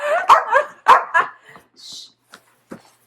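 A small dog barks in a quick burst of sharp, high yips close by, followed by a few fainter whimpers and scattered yaps trailing off.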